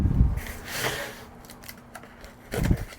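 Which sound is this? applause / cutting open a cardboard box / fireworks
cutting open a cardboard box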